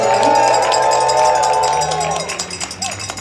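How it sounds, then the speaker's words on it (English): A rally crowd in Vancouver applauds and cheers for SkyTrain cleaners, with loud, dense clapping and raised voices that hold steady, then thin out and fade toward the end. "Can we hear from a round of applause for them?"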